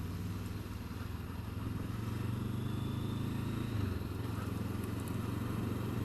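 A motorcycle riding along the Blakey Ridge moorland road, its engine holding a steady low drone with a constant rumble and wind noise and no break from start to finish.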